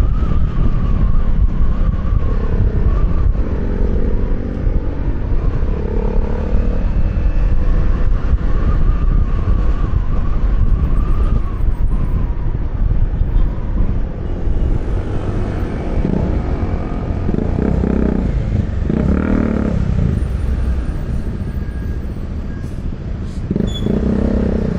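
A Fortress 160 motorcycle with a windshield riding at speed in strong wind, giving a loud, steady roar of wind and engine that eases slightly toward the end.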